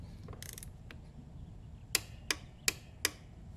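A torque wrench tightening a rear suspension linkage bolt on a Honda Africa Twin motorcycle gives a few soft mechanical clicks, then four sharp, evenly spaced metallic clicks close by in a quiet room.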